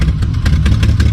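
A long-idle used car from a car lot, left to run after sitting unused for a long time, its engine churning steadily and loudly up close with a rough, clattery low rumble and a slightly uneven pulse.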